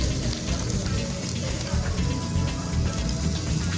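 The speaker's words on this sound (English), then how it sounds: "once they hit the griddle, we can hear instant sizzle" Pork neck cubes sizzle on a hot street-food griddle, a dense, steady crackle and hiss, close and continuous, with faint background bustle.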